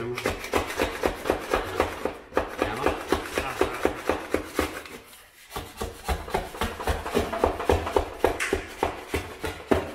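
A hammer drives three-inch fasteners into a timber backblock behind a drywall crack, giving a dense run of sharp, rapid knocks and scraping rubs, loud and close with a brief pause midway and no speech.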